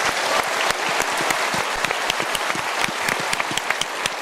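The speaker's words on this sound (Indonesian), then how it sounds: "Kita berikan tepuk tangan dulu." Dense, steady audience applause fills a motivational seminar hall, many hands clapping at once at an even level for the whole stretch with no talk over it.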